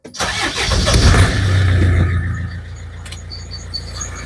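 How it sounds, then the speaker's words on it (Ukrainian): A car engine cranks and catches on a morning start, surging loudly before settling into a steady, quieter idle as it warms up. "Заведемо машинку."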